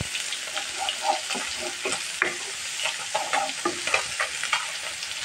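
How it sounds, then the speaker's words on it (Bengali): Taki fish frying in a pan of hot oil, a dense crackling sizzle with bursts of popping spatter and occasional utensil clicks, close and steady, no speech. "এখানে মাছগুলো ভাজি হচ্ছে,"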